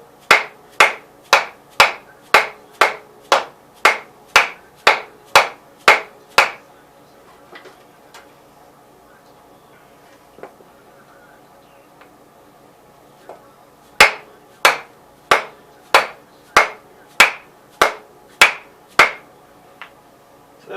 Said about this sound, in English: The only reason I'm having to hammer it is the taper on the piece sticking down into the block.